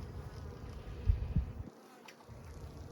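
Honey bees buzz inside a three-pound bee package holding a queen, a faint, steady droning hum with a few louder low thumps of handling partway through, no voices.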